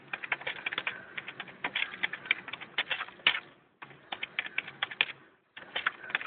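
Rapid clattering of a computer keyboard picked up over an online call, with dense, uneven bursts of keystrokes, near and fairly loud, broken by two brief pauses and no speech.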